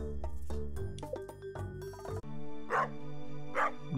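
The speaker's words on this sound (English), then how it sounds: "Whose dog is that?" A dog barks in the farming game Stardew Valley, two short yips set against soft game music and chiming tones, then a couple of higher whimper-like calls near the end.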